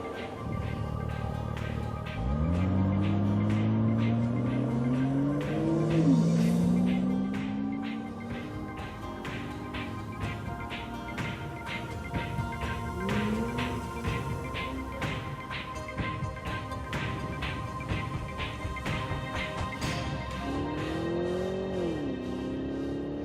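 A double-clutch car in sports mode accelerates hard, its engine rising through fast, abrupt gear changes. The engine note stays loud and close, with a steady drone running underneath.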